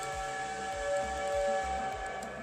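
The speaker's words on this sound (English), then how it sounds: "There's a whistle." A steam whistle near Georgia Tech sounds as a steady, sustained multi-tone blast heard from a distance, holding evenly throughout with faint low rumbling underneath.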